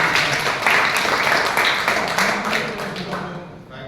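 Applause from an audience at a public speaking event, a steady wash of clapping that gradually thins out toward the end.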